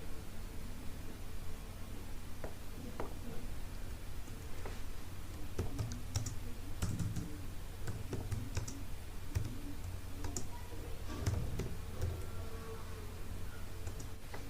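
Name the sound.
typing on a computer keyboard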